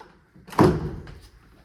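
A single door is moved with a short scraping thud and rattle, loud and close, trailing off into a brief rumble in a quiet room; the door is missing a wood piece.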